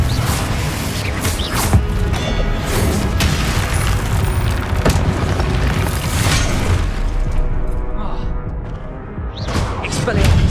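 Loud booming spell blasts from Confringo in the Hogwarts Legacy video game, repeated bursts and crashes over a dense game soundtrack, with a voice heard in the mix.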